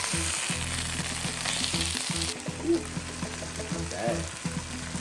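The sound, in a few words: Korean spicy chicken sizzling on a grill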